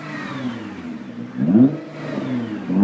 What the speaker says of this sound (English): So he's going to rev his car right now